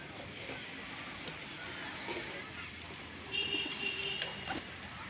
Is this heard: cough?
no